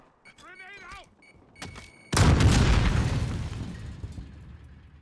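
Grenade explosion in the shooter game Warzone, a sudden loud blast about two seconds in with a long rumbling decay, after a short stretch of gameplay sounds and distant pops.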